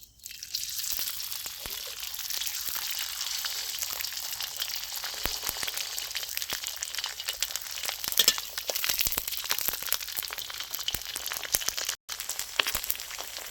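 Catfish frying in hot oil, a steady, dense sizzle and crackle with scattered pops throughout, close and continuous with no talk over it.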